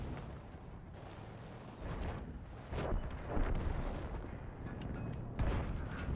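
Tank cannon fire with armor-piercing shells in a video game: several heavy booms at irregular intervals over a dense, rumbling battle background, moderately loud throughout.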